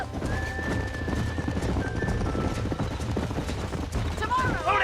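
A horse gallops in Red Dead Redemption on Xbox, with fast, steady hoofbeats close and loud under shouted game dialogue and a whinny near the end.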